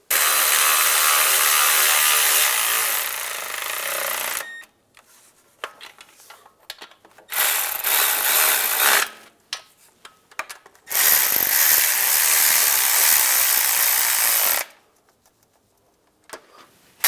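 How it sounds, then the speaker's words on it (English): Rapid ratchet clicking in three long bursts, loud and close, as nuts are tightened onto studs holding the rear main seal cover on a 2007-2013 Chevy Silverado, with short quiet gaps and faint handling noises between. "Then we can tighten them down."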